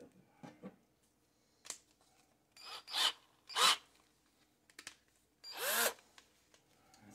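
A power drill works to bore the head off a stuck screw in short, separate bursts, each a whining grind that starts and stops, close and fairly quiet with pauses between.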